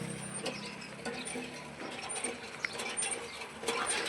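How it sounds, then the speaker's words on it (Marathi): A hand water pump worked by hand at a village water source gives off repeated mechanical creaks and clanks in an uneven rhythm, fairly close by, with no talking. "मी इथं हापसायला लागले."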